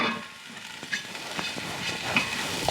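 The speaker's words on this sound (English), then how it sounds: "we're going to let those steam until they are soft" Broccoli stems steaming in a lidded pot on a stovetop give a steady, close hiss with faint crackles and a few light ticks, and no one speaks.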